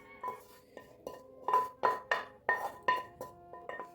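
An egg and fried onion filling for pirozhki is mixed in a bowl, with a spoon clinking against the dish in about a dozen quick, uneven taps, close and clear, no speech.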